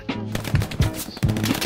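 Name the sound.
machine gun fire in Hell Let Loose video game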